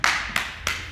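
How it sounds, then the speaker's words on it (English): Three crisp hand claps at an even pace, loud and close, during a resistance workout, with no talking. "Oh, they may not be, but I'm still clapping for it."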